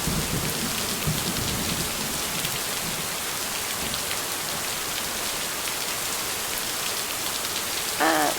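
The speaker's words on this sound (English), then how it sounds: "I can't hear you over the storm." Steady heavy rainfall with a thunderstorm in the video game Lake, a dense continuous hiss of rain, low thunder rumbling underneath, and a brief burst of louder noise near the end.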